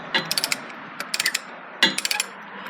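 A ratchet wrench clicks in quick bursts while motor mount bolts come off a 2009-2016 Harley touring motorcycle, three close clusters of rapid metallic ticks with short pauses and no voices.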